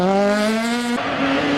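Citroën C2 rally car's four-cylinder engine screaming up through the revs, then abruptly cut for a quick gearshift before the note picks up again; loud, close and continuous.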